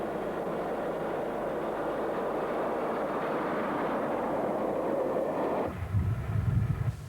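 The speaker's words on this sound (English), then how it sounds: "this is a Class 45 peak on the Ribblehead Viaduct" British Rail Class 45 Peak diesel locomotive, a 138-ton 1Co-Co1 engine, crossing the Ribblehead Viaduct; a steady distant rumbling roar holds for several seconds, then cuts to a lower, uneven rumble.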